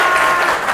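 Classroom applause from students after a group's mini presentation, a dense steady patter of clapping filling the whole short moment at close range.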